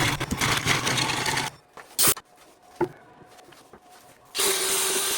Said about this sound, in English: I do the remaining hollowing with a carbide-tipped cutter